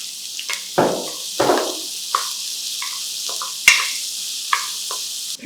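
Two large onions fry in a pan while being stirred, heard as clear spoon clanks and scrapes against the metal spaced irregularly over a soft background sizzle.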